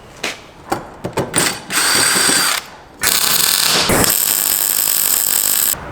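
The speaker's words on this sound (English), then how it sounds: "I'm drilling them out at 9mm just to make it a bit easier to get the pins in" A drill bores out holes to 9mm in steel slide-out room support brackets for an expedition truck build, running in short bursts and then long sustained whirring passes, loud and close with no talk.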